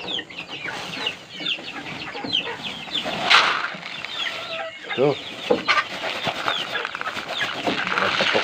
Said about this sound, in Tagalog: Grabe, mga gutom na ang mga